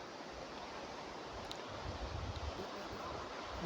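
Waves washing onto an ocean shore make a steady, continuous broadband rush with wind noise on the microphone, holding at an even level throughout and alone with no voices.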